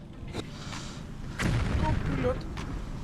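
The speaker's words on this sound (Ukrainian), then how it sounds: "Постріл був, да, постріл був, это наш прильот" A few distant muffled booms of artillery fire spaced across the clip, with faint voices over a low hum, during fighting near Bakhmut.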